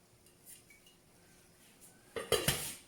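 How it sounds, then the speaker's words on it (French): A metal lid set onto a small saucepan of chicken cooked with olives and fresh herbs, quiet faint kitchen sounds followed by a few bright close clanks and clinks of metal near the end. "Je vais rajouter un peu d'herbe fraîche et refermer ma petite casserole"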